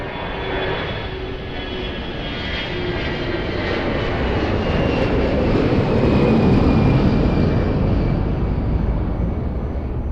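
An airliner lands on runway 02 at Lisbon Airport, its jet engine roar steady and loud throughout, swelling slightly midway with a faint high whine above the broad rumble and no talk.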